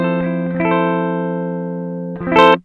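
Clean Gibson ES-335 electric guitar on its mix pickup position, heard dry with a BOSS RV-6 reverb pedal bypassed, playing a few sustained chords that ring out and decay, then a brighter strum near the end.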